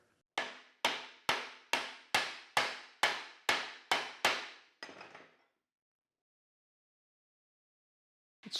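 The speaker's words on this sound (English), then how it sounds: "We just pretty much hammer it flush." Nine evenly spaced sharp hammer blows tapping a Porsche 356 brake and clutch pedal part flush onto its shaft, followed by a softer tap, then silence and a brief noise at the end.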